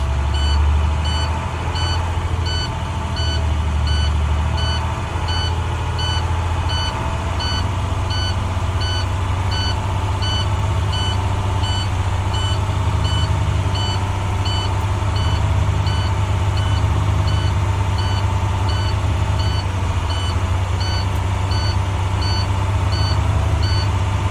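A school bus engine runs steady and loud, revving to about 1,500 RPM and holding there, while a regular reversing-style beep repeats throughout with no talking.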